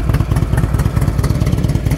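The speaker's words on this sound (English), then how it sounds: "This bike's got a real good sound to it." 2007 Harley-Davidson Screamin' Eagle Ultra Classic motorcycle engine revving close by, a loud, rapid, lumpy rhythmic throb of pulses with a rough mechanical clatter, steady through the short burst.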